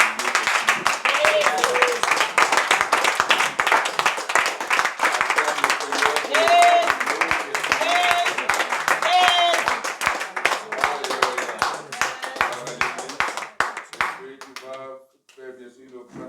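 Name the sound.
congregation clapping in acclamation to the Lord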